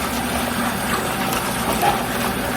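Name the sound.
water running into a container with dish detergent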